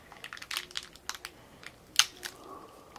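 Plastic packaging on a Shopkins Season 3 toy is pried and crinkled open by hand, giving a string of close, irregular crackling and snapping bursts against a quiet room.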